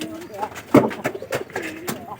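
Village pigeons coo in short low bursts close by, mixed with scuffling and knocking sounds and a voice talking intermittently over them.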